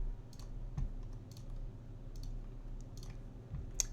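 Mouse clicks while playing the video game House of Legacy: a handful of faint, crisp clicks spaced irregularly against a quiet background hum.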